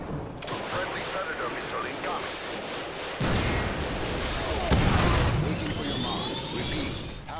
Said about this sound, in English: Predator missile ready for deployment.